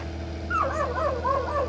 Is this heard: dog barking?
yes